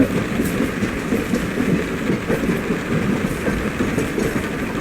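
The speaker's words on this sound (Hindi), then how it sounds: "अब हम धीरे से वडोदरा स्टेशन पर अराइव कर रहे हैं" A train rolls into Vadodara station in the MSTS Open Rails simulator, a steady loud rumble with rhythmic clickety-clack of wheels over rail joints, continuous and close with no voices.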